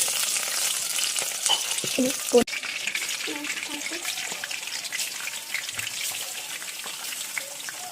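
Steady crackling and sputtering of food frying in hot oil, with occasional clinks of a utensil against the pan and a brief knock.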